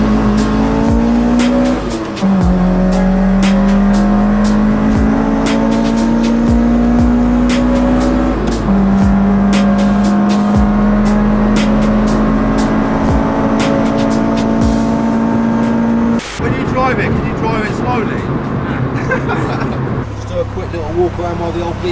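A 1999 Citroen Saxo engine revs hard while driving, its loud note climbing through the gears with pauses at the shifts and a rougher drop near the end, with cabin noise and occasional clicks.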